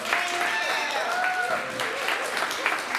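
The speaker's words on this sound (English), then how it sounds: "Please give yourselves a round of applause" Steady applause from attendees at the HATS Professional of the Year celebration, a continuous wash of clapping with faint talking and tonal sounds mixed in.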